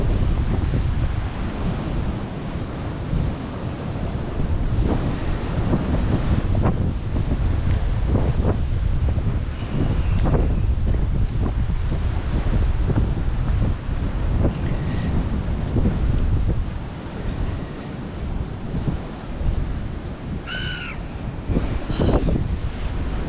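Strong wind blows along a coast, roaring and buffeting the microphone in a steady, loud rush over crashing surf, with a few brief high chirps near the end.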